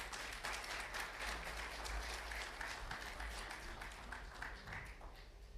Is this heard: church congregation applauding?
yes